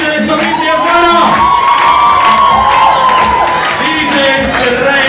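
A crowd at a salsa party at a festival in Latvia cheers and applauds the DJs, a loud, continuous wash of shouts, whoops and clapping filling the room without a break.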